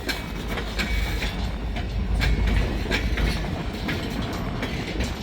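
Freight train with a gondola and a string of center beam cars rolling past a crossing, loud steady rumble with rhythmic clacking wheels close by throughout.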